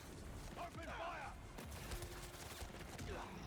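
Gunfire bursts in the Spider-Man 2 video game, faint rapid shots and mechanical clatter mixed with game voices and effects throughout.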